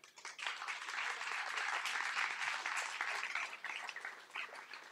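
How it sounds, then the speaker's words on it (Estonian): Audience applause fills a student poetry event during Tartu student days, a dense, steady wash of many hands clapping at moderate distance for several seconds, fading slightly at the end. "Teeme veel ühe aplausi."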